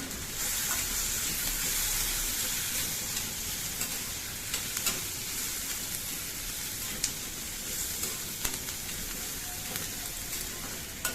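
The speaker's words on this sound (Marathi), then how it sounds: "आता चांगला कांदा परतू द्यायचा टमाटो कांदा मऊ पडतोपर्यंत" Chopped onion and tomato sauté in oil with turmeric in a pan for poha, giving a soft, steady sizzle with occasional light stirring clicks, fairly quiet and without talk.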